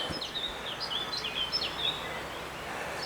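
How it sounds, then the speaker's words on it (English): Small birds chirp and trill in short, scattered bright calls over a soft, steady outdoor hush along a countryside cinder track, the song fairly faint and distant with no talking. "hear that bird song."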